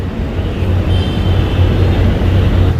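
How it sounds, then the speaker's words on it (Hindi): A Mumbai Metro train pulls into the platform with a steady, loud low rumble and rolling rail noise that holds throughout, no talking over it. "ये मेट्रो आ चुकी है।"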